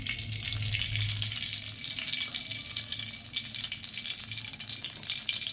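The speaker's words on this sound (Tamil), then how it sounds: "கடாய் சூடாகிடுச்சு, ஆயில் ஊற்றிக்கலாம்." Oil going into a hot kadai makes a continuous, even hiss like running water, fairly close and moderate in level, holding steady for several seconds without any voices.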